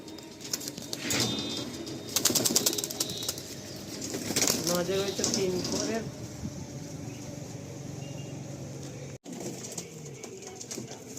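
Pigeons coo in a soft, rolling burst near the middle, with wing flaps and bird rustling around it. Voices talk over much of it.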